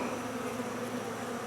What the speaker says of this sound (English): so there's bees in there robbing it out